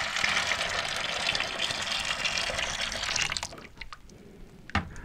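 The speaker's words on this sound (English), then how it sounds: "So we're going to add my warm water" Warm water pours steadily into a glass one-gallon mead fermenter as a loud, splashing rush for about three and a half seconds, then stops, leaving a few faint drips and a sharp clink.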